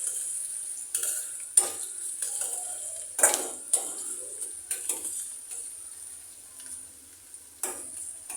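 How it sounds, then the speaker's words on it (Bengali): Onions frying slowly in a pan toward brown for chicken biryani, giving a steady close sizzle with intermittent clinks and scrapes of a stirring spoon against the pot. "পেঁয়াজটাকে সময় নিয়ে ভাজতে হবে, মানে পেঁয়াজটাকে একটু বাদামি রঙের করব।"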